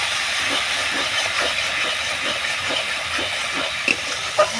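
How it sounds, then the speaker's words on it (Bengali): Spice paste of coriander powder, cumin powder and salt frying in oil in a pan for a rupchanda (pomfret) fish curry, giving a steady, even sizzle and hiss throughout, close and alone with no talking. "মশলাটা এবার ভালোভাবে কষিয়ে নেব।"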